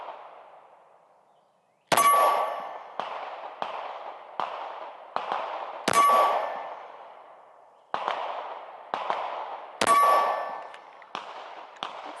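A Ruger RXM pistol fires at a steel target, giving three loud shots followed by many ringing metallic clangs of hits in an uneven rhythm, each decaying briefly, with no talk.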